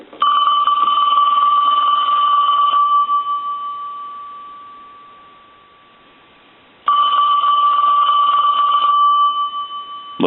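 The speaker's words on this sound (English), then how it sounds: "we'll go ahead and ring the phone." A Princess touchtone telephone rings on a line analyzer, giving two loud electronic ring bursts separated by a fading pause, with no talking.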